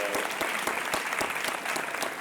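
Studio audience on a quiz show applauding steadily, a dense crowd clatter of many hands with no pauses, near and fairly loud throughout the short stretch.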